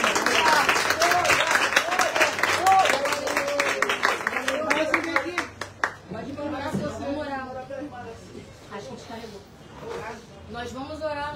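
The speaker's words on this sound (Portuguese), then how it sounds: "Aplauda ao Senhor." A church congregation at a worship service applauds, strong clapping in the first half under loud talk and voices, fading as speech continues alone.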